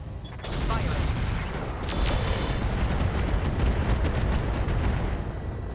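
Weapons fire and explosions from a RogueTech battle between mechs, one a Thanatos, roll on as dense, continuous rumbling bursts and crackling volleys for several seconds, loud and close.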